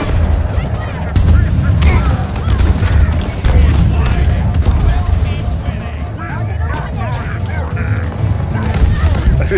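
Rapid gunfire against enemies in Halo Infinite, a dense and loud barrage with booming impacts heard under a player's voice.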